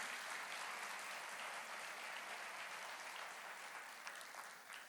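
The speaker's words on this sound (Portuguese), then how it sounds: "Vamos aplaudir ao Senhor." A church congregation applauds with a faint, steady wash of clapping that holds evenly before tapering at the end, with no talk over it.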